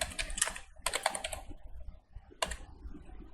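Keyboard typing while a phone number is entered into a Photoshop social media post design, appearing as quick clattering bursts of keystrokes separated by brief pauses, close and moderately loud with no talking.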